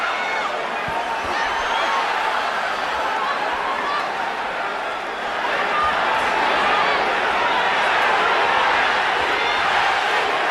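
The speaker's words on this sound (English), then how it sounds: "Manny, the crowd chants" Boxing arena crowd at Pacquiao versus Morales II in January 2006, a dense, steady roar of many voices that swells slightly toward the end, continuous and loud with no single voice standing out.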